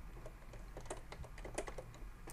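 Typing on a computer keyboard while entering commands, a quiet run of irregular key clicks up close, with no speech.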